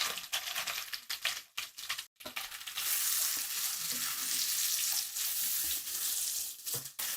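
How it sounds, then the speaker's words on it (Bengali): Chopped onions fry in a pan just used for prawns, a continuous bright sizzle with brief clattering stirs and short pauses, close and fairly quiet, with no talk. "পেঁয়াজগুলোকে সফট হয়ে না আসা পর্যন্ত এগুলোকে একটু ভেজে নিতে হবে"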